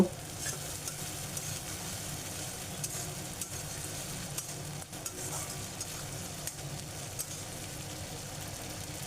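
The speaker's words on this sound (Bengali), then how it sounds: "আদা জিরে বেটে রেখেছি, সেই বাটা মশলাটা দিয়ে ভালো করে পেঁয়াজের সাথে কষিয়ে নেব" Ginger-cumin paste frying with onions in a pan, a continuous soft sizzle with faint scraping of stirring underneath, steady and close with no talking.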